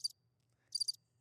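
Crickets chirp in two short pulsed bursts separated by a pause, faint and steady against a quiet background hum, with no voices.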